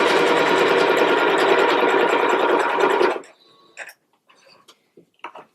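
A sewing machine runs a seam across a puff quilt with a loud, steady, close-up hum for about three seconds, then falls quiet apart from a few short clicks and fabric rustles.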